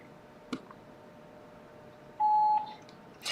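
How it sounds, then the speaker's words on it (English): A single voicemail system beep sounds as a clean, moderately loud tone lasting under half a second after a faint click, over quiet phone-line hiss. "Your call has been forwarded to an automatic voice message system."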